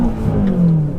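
A 700 bhp BMW M6 accelerating hard, its engine note rising and swelling in a loud, close, continuous pull with a steady whir underneath.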